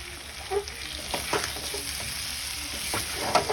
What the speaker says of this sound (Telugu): ఇంకా మంచిగా కలుపుకుంటూ అయితే ఫ్రై చేసుకుంటున్నామండి.